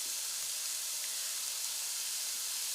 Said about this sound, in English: you can hear that nice sizzle we've got going now